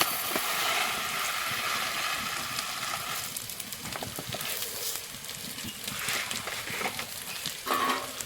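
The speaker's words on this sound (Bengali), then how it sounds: "এবারে চাউলের একটু ভাজে নেব" Rice being fried in a pot for liver biryani, a steady sizzling crackle with occasional scraping stirs, close and fairly loud, no talk.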